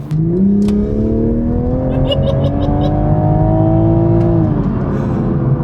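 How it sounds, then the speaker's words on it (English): A 2021 Toyota Supra in sport mode accelerates on a highway, its engine note climbing steadily through the revs and staying loud and close, with a few short clicks partway through. "I'm gonna press the sport button here. I'm gonna give it some throttle."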